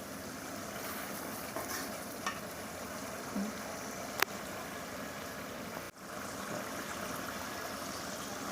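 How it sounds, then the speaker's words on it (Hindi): Whole spices fry and are stirred in a pan for a desi-style home dish, giving a steady, close hiss of sizzling with a few brief scraping knocks and one sharp click partway through. "इनको हम 5 मिनट के लिए भूनेंगे।"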